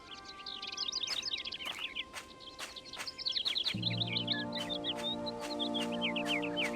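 Birds in the Syberia video game chirp and tweet in quick, repeated bursts of high twitters, fairly close, over a soft background; a sustained tonal drone joins partway through, with no voices.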